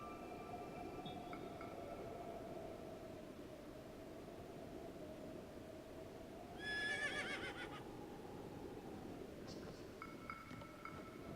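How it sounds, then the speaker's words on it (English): A horse whinnies in a video game, a drawn-out neigh rising over a steady noisy background with faint game music, followed later by a shorter second call. "let's call my horse"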